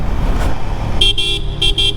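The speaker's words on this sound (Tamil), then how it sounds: "வாவ், ஹாரன் சவுண்டே அவ்வளோ பியூட்டிஃபுல்லாக இருக்கும்போது" A vehicle horn sounds twice, each a short toot lasting a fraction of a second, loud and close over a rumbling engine and road noise on a drive from Kodaikanal to Madurai.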